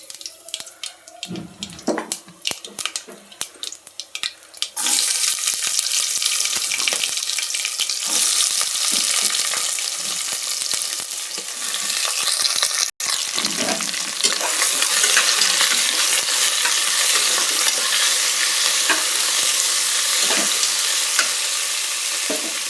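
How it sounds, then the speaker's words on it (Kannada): After a few quiet clinks, cut vegetables hit hot oil spiced with cardamom and erupt into a loud, continuous sizzle. The frying carries on close and steady while they are stirred around the pan, with occasional scrapes and no talking. "ನಾವು ಕಟ್ ಮಾಡಿರೋಂಥ ತರಕಾರಿ ಹಾಕ್ತಾಯಿದ್ದೀನಿ."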